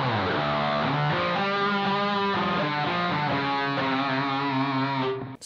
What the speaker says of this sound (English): Let's look at fuzz echo.